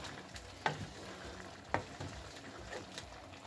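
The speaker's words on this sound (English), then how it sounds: "my wood spatula, and I have to stir it gently, carefully, because of the fish" A wooden spatula gently stirs a pot of snail and fish pepper soup, giving quiet bubbling with two sharper scrapes against the pot and softer stirring sounds between them.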